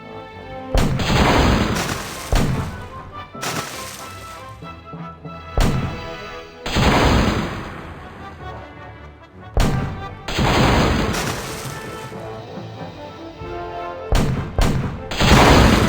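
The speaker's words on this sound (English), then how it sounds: "Not a bad little cannon." Heavy booming cannon blasts from the video game The Curse of Monkey Island fire repeatedly in uneven bursts, each one loud and ringing out briefly before the next shot.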